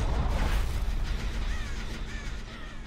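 Crow cawing inside a video game, a couple of short hoarse calls rising over a loud rumbling, booming game soundscape.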